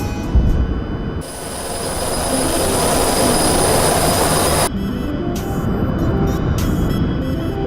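A jet engine roars on afterburner during takeoff in a flight-simulator game, a loud, sustained whooshing rumble with a high whine on top that shifts abruptly partway through but never lets up.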